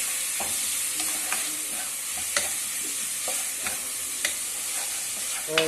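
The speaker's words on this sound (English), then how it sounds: "Saute the ginger garlic paste." Ginger garlic paste sautéing in a pan with onion and capsicum, a steady bright sizzle running throughout, broken by occasional scrapes and clicks of a spoon stirring, no voices.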